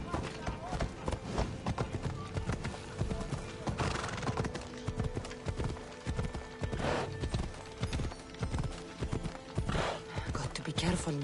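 Hooves clip-clop steadily as a horse gallops in Assassin's Creed Odyssey, with occasional whinnies and game ambience. A voice speaks over the running hooves.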